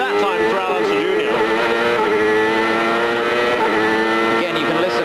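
A Honda-engined CART race car at the Cleveland round in 1998 screams at high revs, its engine note rising and dropping through rapid gear changes, loud and continuous, with commentary voices over it.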